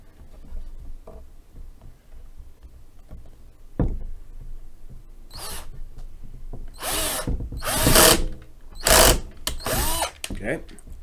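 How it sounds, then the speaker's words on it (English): A power drill whirs in several short bursts, loud and close, with pauses between, drilling a pilot hole while building a coat rack, after some quieter knocking and handling sounds. "Drill our pilot hole"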